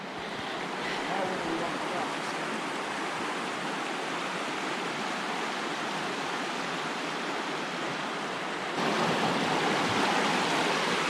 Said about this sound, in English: And we're to the river.